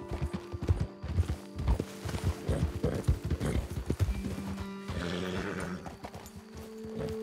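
Horses in Red Dead Redemption 2 trotting with brisk clip-clopping hooves that go on for several seconds, with a whinny and some game ambience, and no talk.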